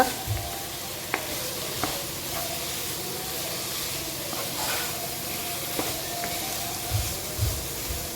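Fried rice with soy sauce is stirred in a hot pan, a continuous sizzling hiss broken by repeated scraping strokes and occasional clinks of the spoon against the metal.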